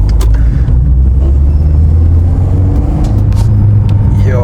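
Interior engine roar of a VW Citi Golf, a Mark 1 Golf, accelerating hard, a loud steady low rumble filling the cabin with brief clicks and knocks over it.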